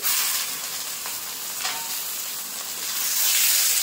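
Katla fish fat sizzles and fries in a hot pan, a dense steady hiss with crackling that swells near the end as it is stirred, close and loud with no talking.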